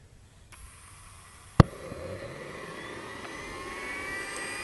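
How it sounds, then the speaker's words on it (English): An RC helicopter turbine engine fed isobutane pops sharply to life with a single loud bang, then a faint whine slowly builds as it spools up, close by with no talk. "You'll hear it pop to life and slowly spool up"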